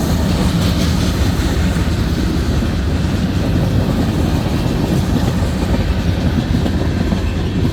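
A CN freight train departs Ladysmith, Wisconsin, rumbling steadily past up close, heavy low-frequency roar with faint clickety-clack of wheels, continuous and loud throughout.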